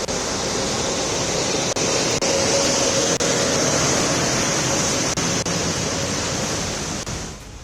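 Heavy rain pours down over waterlogged Delhi roads in a steady, dense, broadband roar that holds at an even level for several seconds before easing slightly at the end.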